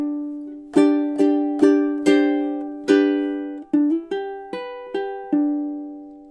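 Ukulele plays bars 7 and 8 of a song in steady rhythm, about a dozen crisp strums with chords ringing between them, near and clear with no talking.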